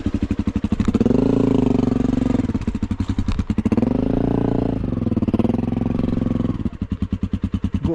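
Dirt bike, a CRF 300L or XPulse, climbing a rough mountain trail in Nepal, its engine loud and close, rising and falling as the throttle opens and eases back, with short pulsing stretches at lower revs.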